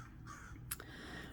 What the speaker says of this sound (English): there's a crow here close by.